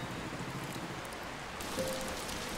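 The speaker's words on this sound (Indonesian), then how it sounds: "Ya, senang banget gue dengar suara hujan kayak gini." Steady rain falls outside a house, a dense, even hiss of drops on surfaces that carries without a break and thickens slightly toward the end.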